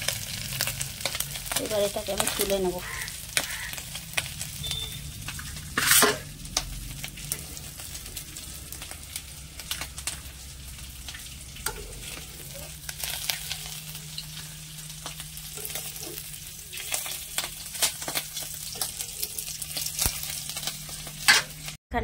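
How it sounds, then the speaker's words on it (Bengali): Tiger prawns fry in hot oil with a constant crackling sizzle, punctuated by scraping and clinks of a utensil in the pan; someone speaks briefly over it. "দেখুন চিংড়ি মাছটা সুন্দর করে লাল লাল ভাজা হয়ে গেছে,"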